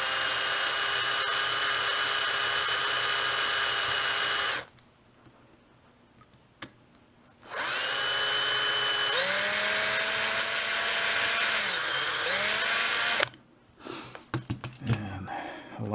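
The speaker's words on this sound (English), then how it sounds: "And a larger drill." A small drill bores into a Corgi #436 Citroen Safari die-cast model during restoration, a loud steady whine in two long bursts with a pause between, the pitch sagging and recovering as the bit bites, then brief clicks at the end.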